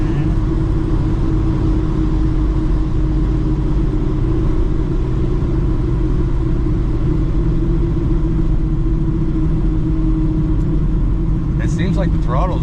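A 1970 Chevy Nova with a blueprinted 383 engine and built transmission rumbles steadily from inside the moving car, a loud continuous low drone that stays even throughout, with a brief higher chirp near the end.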